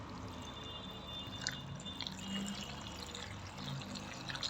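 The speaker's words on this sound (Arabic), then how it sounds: "راح نضيف له المي" Water is poured into a pickle preparation, a faint trickling splash over a quiet, noisy background, soft and close.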